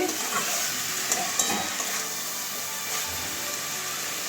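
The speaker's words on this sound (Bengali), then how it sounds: "কষিয়ে নেব দু মিনিট ভালো করে কষিয়ে নিয়েছি" Cauliflower, potato and mushroom curry sautés in a pan, giving a steady close frying hiss with occasional clicks from stirring, moderately quiet, with no one talking.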